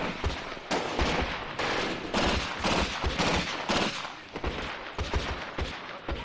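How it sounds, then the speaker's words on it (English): Dense, continuous machine gun fire from a Graviteam war game, with steady overlapping rattling bursts that are loud and sustained from start to finish. "Looks like the MGs are firing just above him."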